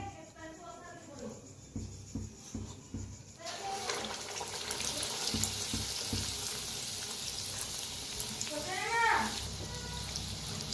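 Kadhi vada fritters frying in hot oil in a pan, a steady bright sizzle that fills the clip after a quieter start, with a few clinks and taps of utensils and a brief bubbling burst near the end.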